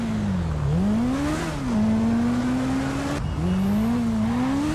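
A steady, loud Kawasaki Ninja H2R motorcycle engine drone in GTA 5 rises and falls in pitch as it revs up and down, continuous and close, with no talking.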